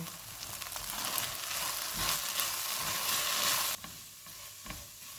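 A chicken filling with dried oregano and fresh coriander sautés in a pan, a crackling sizzle with spatula scrapes and stirring knocks that drops off sharply near the end.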